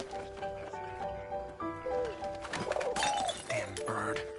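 A pigeon in the video game 11-11 Memories Untold, soft coos and warbling calls amid ambient background music and light clatter, with voices speaking faintly in places.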